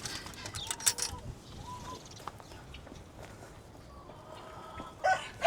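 Buff-laced Polish frizzle chickens in a breeder pen cluck faintly and sporadically over quiet farm ambience. A few sharper calls come near the start, and a louder squawk is heard at the end.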